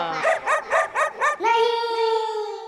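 Near a singing practice, a dog barks five times in a quick, even rhythm, then draws out into one long, sustained howl. It is loud and close, with no other sound around it.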